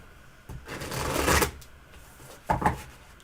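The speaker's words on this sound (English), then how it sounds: "We'll both shuffle and then we'll just fan it." Tarot cards riffle and shuffle in two quick bursts, the first longer and fuller, the second short, close up with no voices.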